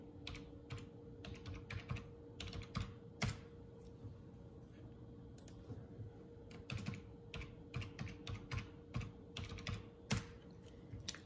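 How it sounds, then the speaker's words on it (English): Someone types a password on a computer keyboard, with bursts of rapid, close key clicks separated by short pauses, quiet overall and without talk. "I'm going to type my password in."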